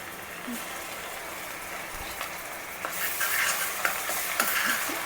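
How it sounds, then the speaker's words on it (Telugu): Ginger garlic paste sizzles steadily in a hot pan for butter chicken, with scraping stirs that grow a little louder and busier toward the end. "అల్లం వెల్లుల్లి పేస్ట్ వేసేస్తున్నా"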